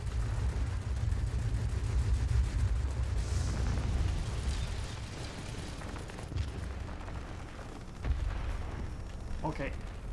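Aircraft guns blaze from a Beaufighter heavy fighter in a combat video game, a dense continuous roar of rapid fire with heavy low rumble running throughout, followed by a few sharper impacts near the end.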